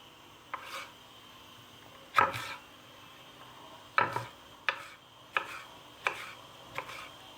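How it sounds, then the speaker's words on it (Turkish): A knife chops peppers on a cutting board in a home kitchen, a handful of separate crisp knocks spaced about a second apart, close and fairly quiet with no talking. "Bunu kırmızı biberi doğradığımız gibi doğrayacağız."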